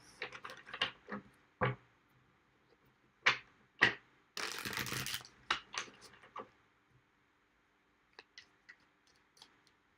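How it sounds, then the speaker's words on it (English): Tarot cards are shuffled by hand in quick bursts of riffling and sharp taps, with one longer continuous riffle in the middle and scattered softer clicks toward the end. "Two more shuffles."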